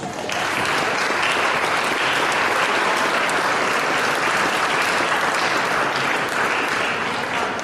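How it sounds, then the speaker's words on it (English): Loud, even applause from a large crowd at a school athletic awards ceremony honours the club badminton players, unbroken and close for the whole stretch. "can I please have all club badminton players stand up and give them a round of applause?"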